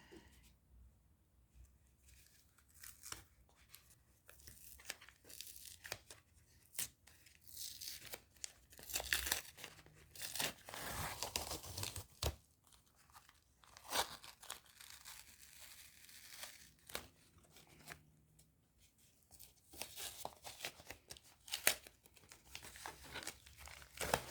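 Backing is peeled off a dried layer of a handmade baby card, giving crinkly, tearing rustles in bursts and pauses that are close and fairly quiet.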